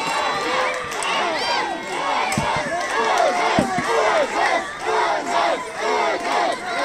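Spectators at a Roman gladiator reenactment bout between a murmillo and a retiarius, a large crowd shouting and cheering in rising and falling waves, loud and close, with scattered individual yells and a couple of sharp knocks.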